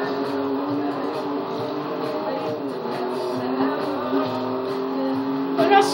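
A car engine drones and revs continuously during a race in the Forza Horizon 2 video game, with rising and falling pitch and someone talking over it.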